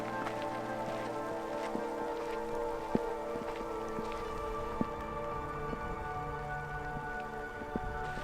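Steady rain in Death Valley patters on a surface nearby, a continuous hiss with occasional louder drips and taps.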